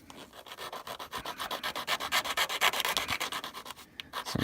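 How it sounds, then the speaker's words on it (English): Rhythmic back-and-forth rubbing of 220-grit sandpaper against a surface, each stroke a raspy swish repeating steadily and fairly close, growing a little louder toward the end, with no talking. "let's start the sanding"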